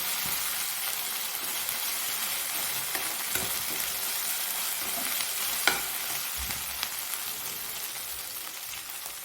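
Garlic paste frying and being stirred in a pan for a cauliflower and soya curry, a steady close sizzle with soft scraping stirs and occasional small pops, no voices.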